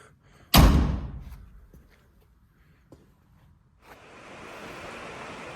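A Mini's car door swings with one sharp, loud slam near the start, a few faint knocks and clicks after, then a steady hiss of background noise to the end.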